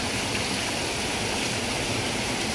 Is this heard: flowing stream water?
yes